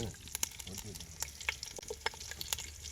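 Curry leaves frying in a pan over an outdoor village fire, giving a faint crackle and scattered sharp pops under quiet background noise.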